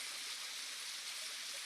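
Water in a small creek flows steadily with a soft, even hiss and rush, faint and constant throughout, no voices.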